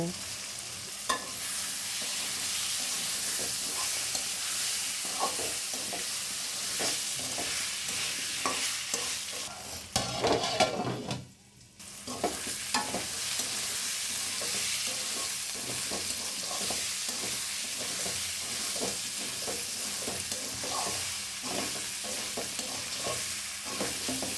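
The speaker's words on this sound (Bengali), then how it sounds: "এখন হচ্ছে আমি কেটে রাখা আলুগুলো প্রথমে দিয়ে একটু কষিয়ে নেব" Cut potatoes sizzle loudly in hot spiced oil, with a steady close crackle and stirring scrapes throughout and a brief dip partway through.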